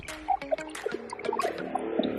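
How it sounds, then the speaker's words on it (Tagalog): Water splashes and drips into an ice mold for making tube ice, with small gurgles and trickling sounds scattered through, close and fairly quiet. "Pupunuin ko lang itong molding ko."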